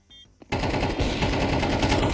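Gunfire punching through a wall in a tactical bomb-plant shooter game, a loud close burst of rapid automatic shots that starts abruptly after a brief quiet and runs continuously to the end.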